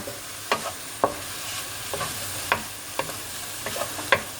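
Egg and cabbage stir-fry in a pan over high heat, a steady sizzle broken by a regular series of sharp scraping stirs about every half second, close and with no talking.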